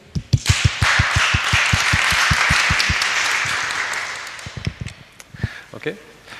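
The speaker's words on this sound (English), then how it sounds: "Give them a big applause to start the day." Audience applause welcoming speakers at a mapping conference: a burst of loud, close claps that settles into sustained clapping, then thins to scattered claps with a few voices near the end.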